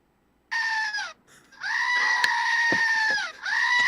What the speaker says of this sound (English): Jamie, let's hear the goat